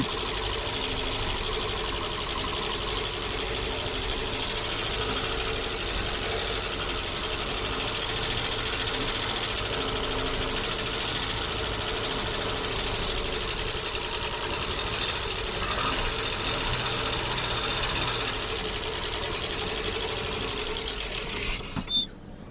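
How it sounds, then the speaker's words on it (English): An old abandoned farm truck engine idles roughly and steadily for a long stretch, a loud, uneven chugging rumble with a rattly, knocking texture, close by. "She don't sound good, but she's running."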